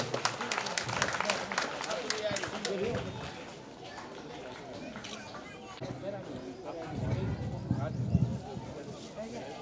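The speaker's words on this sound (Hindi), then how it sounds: "भाई पर जोरदार तालियां हो जाए इनके लिए।" An audience applauds at a village ceremony honouring ex-servicemen and martyrs, with sharp claps standing out at the start before fading under a voice speaking over a public address, the clapping growing faint and scattered.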